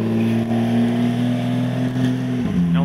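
A black Porsche 911 Turbo S at a street car gathering in Praça da Espanha, its engine holding a loud, steady drone before a brief blip and drop in pitch near the end, close by with no talk.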